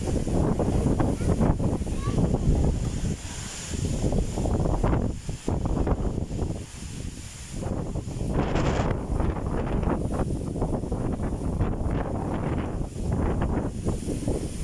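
Strong gusting wind on a hilltop in Culasi, Ajuy, Iloilo, heard on a cycling ride, buffets the microphone with a loud, rumbling roar that surges and dips briefly before pressing on steadily.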